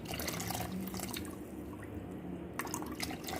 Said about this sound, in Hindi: अब हम इसमें शामिल करेंगे पानी इतना शामिल करेंगे कि हमारी शलजम के ऊपर ये पानी आए